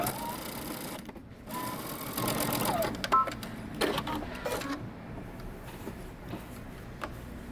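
A sewing machine runs a basting stitch across fabric in short bursts, its rapid mechanical whir starting and stopping close by, separated by quiet pauses and small handling clicks.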